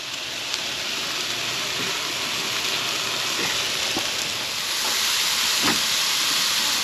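Food sizzling on a grill, a steady broad hiss that stays loud throughout with a few faint ticks and pops, swelling slightly near the end, no talking.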